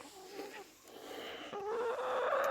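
Soft hen clucks and low murmuring calls, close by and fairly quiet, becoming a bit louder and more continuous toward the end.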